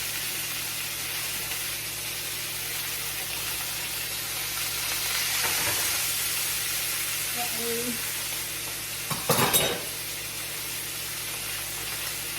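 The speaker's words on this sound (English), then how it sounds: "And I'll let that sear for like 8 minutes." Leftover pot roast beef sears in a pan, with a steady, even sizzle running throughout and a brief louder burst near the end.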